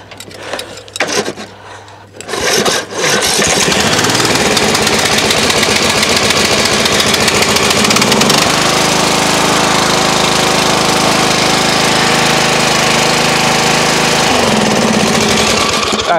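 A Craftsman LT1000 riding lawn mower engine cranks in a few short bursts, catches, then settles into a loud, steady running drone close by, with the smoky, oil-leaking small engine holding an even idle throughout.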